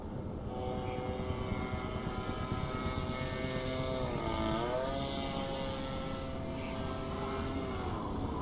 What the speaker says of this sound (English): he wants us to fly the RC plane with the Force to get back over the Orachi camp